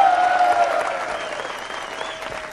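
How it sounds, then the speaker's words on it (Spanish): Audience applause at a stand-up comedy show at Club Sunshine, a steady burst of clapping from a live crowd that gradually tapers off over a few seconds, with no talk over it. "Un aplauso para Brígido."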